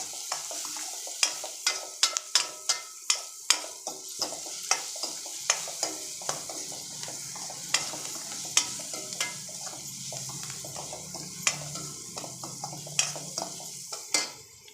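Ridge gourd and meal maker curry with turmeric and salt is stirred in a pan, with repeated sharp spoon clinks against the metal over a constant soft sizzle.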